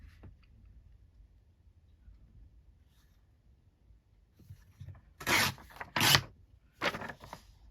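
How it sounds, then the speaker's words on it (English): Quiet stillness, then three short, crisp rips of paper torn against a ruler for a rough edge, close and distinct, each lasting about half a second. "What I'm probably going to do is ruler rip, because I want a bit of a rougher edge."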